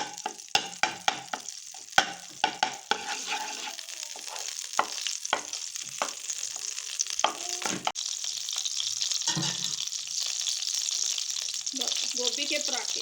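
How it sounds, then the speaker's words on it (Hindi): Cauliflower roasts in ghee in a pan, with a run of sharp utensil knocks and scrapes early on, then a steady hissing sizzle that carries to the end. "हम अपनी गोभी को पहले रोस्ट कर लेंगे"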